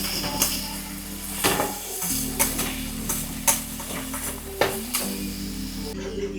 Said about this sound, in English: I am going to heat some oil and then saute onion, garlic, and pimento